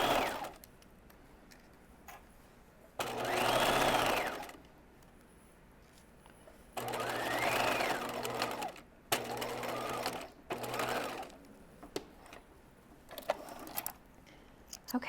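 Close sewing machine laying a long straight stitch runs in several distinct bursts of steady whirring, each a second or two long, separated by quieter pauses with faint clicks and handling.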